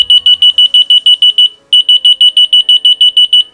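A key finder answers its remote with loud, piercing electronic beeps in a rapid even train, about a dozen pulses, a short pause, then another run of equally loud beeps close by.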